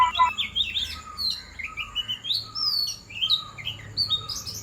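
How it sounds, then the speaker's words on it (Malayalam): Several birds chirp and tweet outdoors in the early morning, their short, overlapping calls coming steadily and fairly close throughout, with no voices. "ഇവിടെ ഇങ്ങനെ കിളികളെ സൗണ്ട് കേട്ടിട്ട് എനിക്ക് യാതൊരു വിധ"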